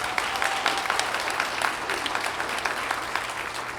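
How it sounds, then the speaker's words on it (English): An audience applauds a student band at a school winter concert, steady dense clapping from a sizable crowd, moderately loud and sustained throughout. "so I would like to give them a round of applause."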